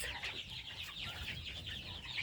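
A Barbezieux rooster clucks and murmurs softly in short repeated calls, fairly faint against a low background hum.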